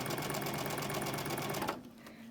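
A sewing machine stitches quilt blocks in a steady, rapid mechanical chatter, close and loud, then stops abruptly near the end, leaving a faint hum.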